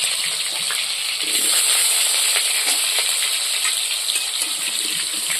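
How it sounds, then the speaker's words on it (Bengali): Potatoes frying in hot oil in a village kitchen, a steady close sizzle and crackle with faint spatters running without a break, and no voices. "এখন আমি আলুগুলো ভেজে নেব"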